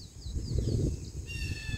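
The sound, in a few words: birds calling in a forest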